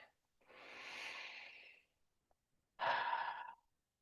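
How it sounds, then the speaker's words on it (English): Two slow, deep breaths under a guided meditation, a long breathy inhale followed after a pause by a stronger, shorter exhale, close and clear with no talking. "Take one final deep breath"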